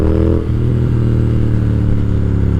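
A 2020 Triumph Speed Twin engine pulls hard under acceleration, its loud steady drone rising in pitch as it revs up close and alone.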